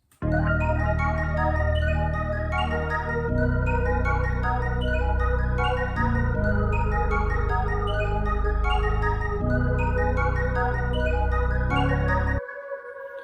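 A bouncy, light MIDI melody plays over a hard hip-hop beat with a simple counter melody, loud and continuous in looping sections, with no talking, before the drums drop out near the end.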